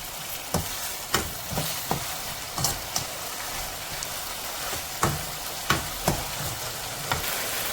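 Chicken is stirred into a spicy masala gravy for Singapore chicken biryani. A steady sizzle runs under a series of sharp spoon scrapes against the pan, coming in an uneven rhythm roughly every half second to second.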